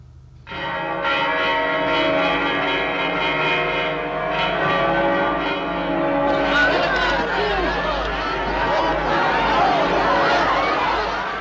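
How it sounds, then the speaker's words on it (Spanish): Church bells ring out continuously and loudly in Spain at the end of the Spanish Civil War, layered peals overlapping, with a crowd chattering underneath in the second half. "volvieron a repicar las campanas"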